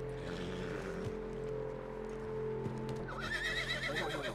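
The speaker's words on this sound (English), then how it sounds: "Is this my horse now?" A horse whinnies in the video game Red Dead Redemption 2, a drawn-out neigh rising near the end over a steady low rumble and faint hoof clops.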